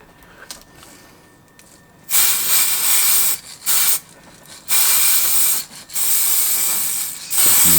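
A spray can laying a coat of paint onto Bionik Mantis headphones on a hot day, loud close hissing bursts of one to two seconds each, separated by short pauses after a quiet start.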